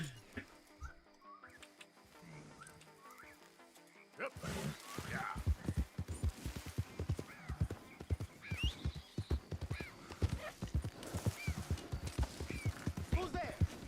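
Horse hooves clip-clop in the Red Dead Redemption 2 video game, a quiet stretch giving way to a steady trotting rhythm of close hoofbeats, with a snort or whinny and faint whistling.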